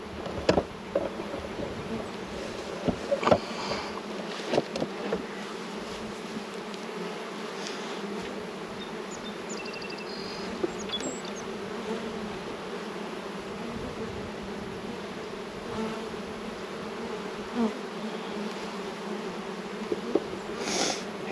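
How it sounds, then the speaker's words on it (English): Honeybees in an opened ten-frame hive give a steady, dense buzzing that continues throughout, with occasional brief clicks and knocks from handling the frames. "Lots of light-colored young bees."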